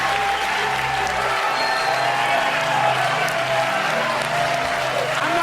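A comedy club audience at a stand-up show applauds and cheers, a steady dense wash of clapping with scattered whoops filling the room without pause.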